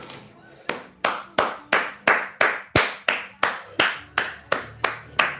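A fitness coach claps his hands loudly in a steady, even rhythm, about two to three sharp claps per second, continuing throughout at the end of a workout set.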